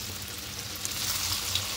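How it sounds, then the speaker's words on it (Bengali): Okra sizzles in hot mustard oil in a kadai, a soft, steady frying crackle with a few small pops and no talking. "এদিকে কড়াইতে সরষের তেল দিয়ে তেলটা গরম হয়ে গেছে। এবার ঢ্যাঁড়সগুলো দিয়ে দেবো,"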